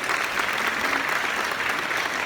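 A church congregation applauds in a dense, steady wash of clapping hands that fills the room without pause, loud and even from start to finish.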